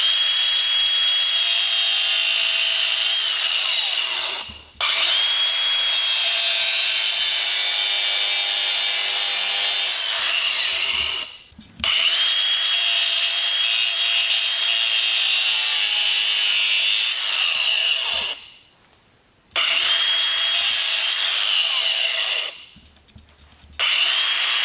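Power tool grinding steadily through a metal nut on a porta-power hydraulic ram, long continuous high-pitched cutting runs broken by several short pauses, loud and close with no talk.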